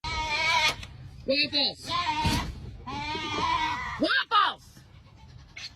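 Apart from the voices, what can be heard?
goats bleating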